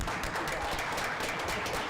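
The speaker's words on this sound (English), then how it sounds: "you please join me in giving Curtis and Tim a round of applause" Steady applause from a crowd at a school board meeting, a dense wash of clapping hands that holds at an even level throughout.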